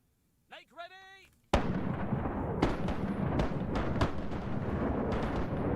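Ship cannon fire in the Rise of Piracy naval combat game: after a short rising tonal effect, a loud sudden blast opens a sustained roaring barrage with several further sharp booms and cracks, close and dominant, with no talk.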